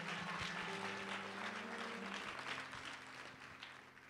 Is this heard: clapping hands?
yes